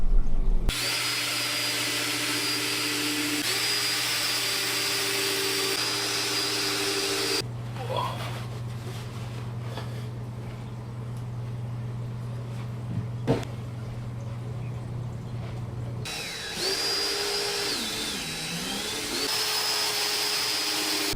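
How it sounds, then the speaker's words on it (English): A power drill drives screws into a DIY plywood aquarium stand, its motor whining steadily for several seconds, pausing amid faint background room noise, then starting up again with a rising and falling pitch as screws bite in. "We're going to screw this all in place and screw it onto the stand."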